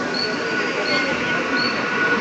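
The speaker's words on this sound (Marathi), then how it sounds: "आता आमची ट्रेन आलेली आहे" A train pulls into Vitthalwadi station in a steady, broadband rumble with faint high squeal streaks, heard close and continuous for the whole moment.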